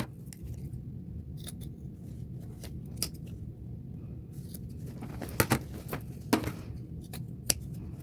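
Scissors trimming the small hem tabs off a pair of jeans, a few sharp snips and crisp clicks at intervals over a low steady room hum.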